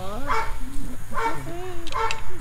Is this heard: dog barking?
yes